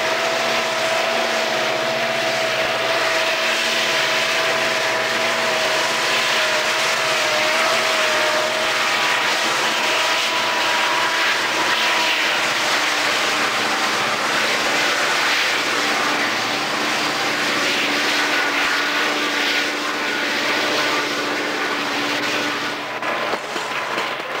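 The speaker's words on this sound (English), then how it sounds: "A tunnel motor leads an eastbound SP freight out of Tunnel 9 and past the west switch of Waylong Siding as it ascends the loop." Southern Pacific tunnel motor diesel locomotive leading an eastbound freight out of a tunnel on a mountain loop, a loud sustained engine drone with steady rumble throughout.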